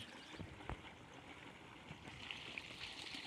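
Dissolved liquid cow-dung manure flows into a farm field planted with spinach, a steady soft trickling and gurgling of water running close by, with a few faint knocks and no talk.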